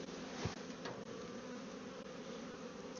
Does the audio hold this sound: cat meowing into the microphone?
no